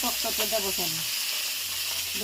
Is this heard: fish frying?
yes